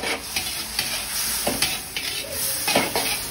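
Shrimp stirred in a frying pan for pancit bato, a spatula scraping and clinking against the pan in short strokes over a constant sizzle, fairly close.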